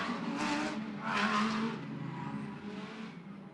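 GT race cars lapping the Macau street circuit behind a safety car during the Macau Grand Prix GT Cup, a steady, broad engine roar at moderate distance that swells briefly, with no talk.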